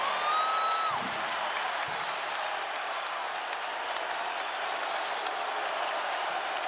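A basketball arena crowd at a Duke vs Arizona game roars with sustained cheering and applause, a broad, steady wash of noise, with a brief whistle-like tone at the very start.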